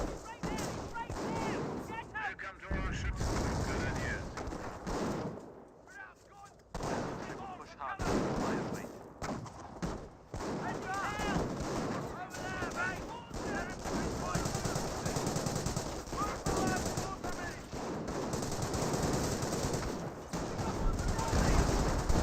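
Artillery and gunfire in the video game Company of Heroes, with dense bursts of machine-gun rattle and booming shell impacts from a sector barrage around trench positions, loud and almost continuous, some louder blasts standing out over the din.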